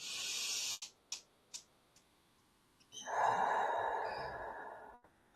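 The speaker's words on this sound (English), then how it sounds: "and taking a breath really changes my energy" A slow, deep calming breath: a few short sniffs, then a long, soft, airy breath drawn close to the microphone and held for about two seconds before fading.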